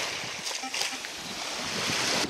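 Ocean waves wash onto a wet sandy beach in a steady broadband rush, with wind buffeting the microphone and the surf swelling louder near the end.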